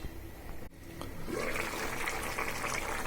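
Broth poured into a pot of radish, potato and beef bone curry, a sudden steady gushing and bubbling pour that starts partway through and continues close and fairly loud, no talk.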